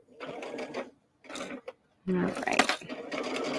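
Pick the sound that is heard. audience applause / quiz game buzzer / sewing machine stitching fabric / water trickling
sewing machine stitching fabric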